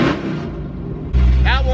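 A straight-piped drag car engine idles with a low rumble, then jumps abruptly into a loud, deep rev toward 4,000 RPM, brief and close, with a voice speaking over it.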